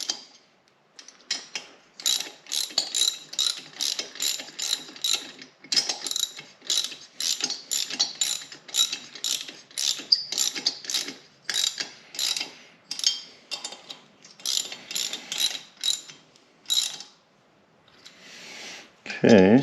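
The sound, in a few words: ratchet tightening bolts on Yamaha PW50 motorcycle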